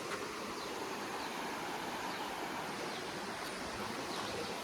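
A small river full of water flows outdoors. Its rushing is steady and even, with no breaks, and no one speaks.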